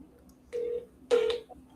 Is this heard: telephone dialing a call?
yes